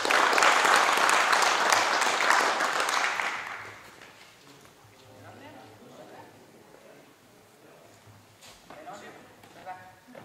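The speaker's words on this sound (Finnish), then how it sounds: "Ja siitä vielä aplodit." Audience applause at the Heinola 2018 Jari-Pekka rally prize ceremony, dense and loud for about four seconds, then fading into scattered claps and murmuring voices.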